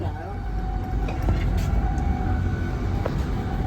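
Steady rumble of a Tren Maya passenger train with open gangways in motion in Mexico, low and continuous, with faint squeals and clatter from the cars and a murmur of voices nearby.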